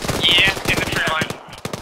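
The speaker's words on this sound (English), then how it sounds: "Yeah, enemy fire!" Gunfire in the Arma 3 military shooter, a quick burst of rapid shots close by, mixed with the rattle and noise of combat.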